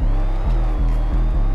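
Engine of a Jeep Trackhawk in a Roblox hood game, a loud, steady revving drone with gear-shift dips about every half second as the car drives close by.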